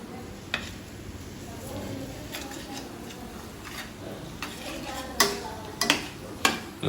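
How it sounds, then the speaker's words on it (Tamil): Curry masala and tomatoes being stirred in a pan for kari kuzhambu, with a steady low frying rustle and scattered sharp clicks of the spoon against the pan, a few louder knocks near the end. "அப்புறம் தக்காளி போட்டு திருப்பி கிண்ட ஆரம்பிச்சிட்டோம்."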